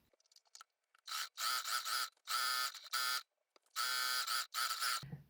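A home sewing machine stitches a seam on an H-line skirt. It runs in several close, loud buzzing bursts of about a second each, separated by short pauses, with no voices.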